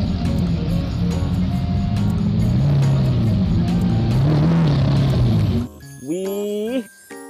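A toy Lamborghini car plays its engine sound effect, a loud, steady, revving drone lasting several seconds, followed by a brief electronic beeping tune from the toy.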